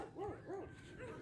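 Two quick, faint dog barks ring out in succession, followed by a softer third yelp, somewhat distant against a quiet outdoor background.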